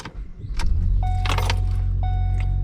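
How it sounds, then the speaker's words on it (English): A Ford Escape 2.0L engine cranks and catches, settling into a steady low idle rumble, close by, while two short tonal chimes sound over the running engine. "go ahead and start the car up"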